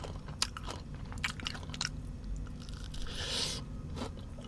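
Crunchy chocolate pistachio kunafa being bitten and chewed up close: several sharp crunches followed by quieter wet chewing and crackles, with no talking.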